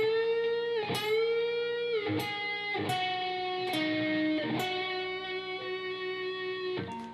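Electric guitar plays part 6 of a solo at a slow pace, sustained bent notes with vibrato broken by a few sharp picked attacks, close and even in level, with no talking.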